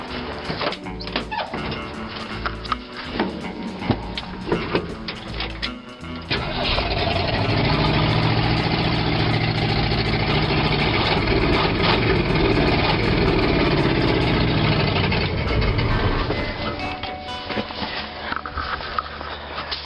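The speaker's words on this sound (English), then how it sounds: "I'll give this thing a quick start up, show you guys what it sounds like." A 1975 Ford F100 truck engine with carburetor problems cranks briefly, then catches and roars loudly, running steadily for about ten seconds before dropping back to a lower, rougher idle.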